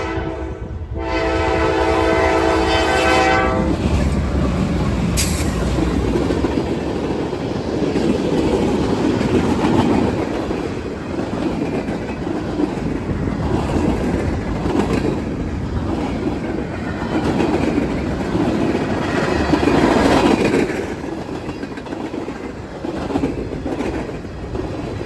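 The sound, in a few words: freight train L423 passing with over 100 axles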